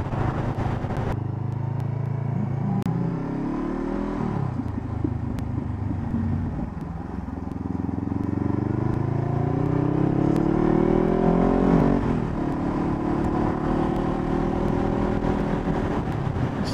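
A motorcycle ridden on a road, recorded from the rider's position with a steady wind rush and engine drone as the engine revs and shifts through gears, pitch rising and dropping, with no talking.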